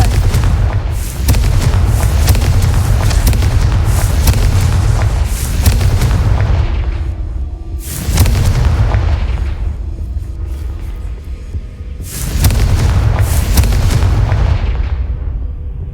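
Spell blasts from the Confringo curse in the video game Hogwarts Legacy go off as a string of loud, booming explosions, with several heavy bursts and rumbling tails that overlap one another in close succession.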